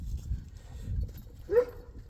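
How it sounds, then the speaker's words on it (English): A dog gives a single short bark partway through, moderately loud, over a low background rumble with nothing else prominent. "Great, Murphy's barking."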